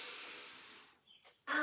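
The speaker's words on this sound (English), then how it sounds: "Okay, nice deep breathing. Now breathe in" Deep breath drawn in during a relaxation exercise, a long airy hiss that gradually fades, followed by a short pause and another burst of breathy noise.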